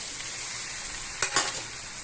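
Shrimp stir-fried with other seafood in a pan, giving a steady sizzle and fry hiss throughout, broken by two brief stirring scrapes near the end.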